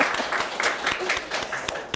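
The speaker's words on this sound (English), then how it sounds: "Round of applause." An audience at a live panel event gives a short round of applause, a bright patter of clapping with voices mixed in.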